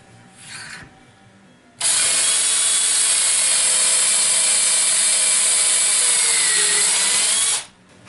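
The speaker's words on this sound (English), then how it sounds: "and then you just simply drill this hole right through here." A power drill whines loudly and steadily for several seconds as it bores through log or black cherry wood, then cuts off; a brief quieter whir comes before it.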